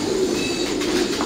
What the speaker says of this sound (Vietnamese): phân tích kỹ hơn một chút về cái loại bồ câu Thái này không?